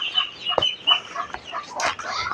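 Young home-raised chickens cluck in short, bright bursts, several birds close by with brief pauses between calls and no voices.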